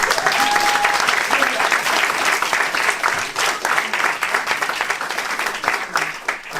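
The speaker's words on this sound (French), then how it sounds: "vous pouvez l'applaudir très très fort" Audience at a startup pitch competition applauding loudly, dense crowd clapping that rises at once and then tapers into more scattered claps, with some voices mixed in.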